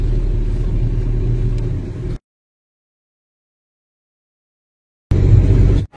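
Engine rumble from a car driving along a road at night, low and steady inside the vehicle, breaking off into complete silence for about three seconds before the drone returns.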